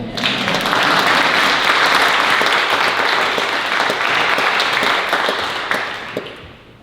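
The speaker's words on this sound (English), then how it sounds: "I would like for everyone to clap." An audience claps throughout at a talk on sculptor Edmonia Lewis, a dense, loud round of applause that holds steady for several seconds before tapering off at the end.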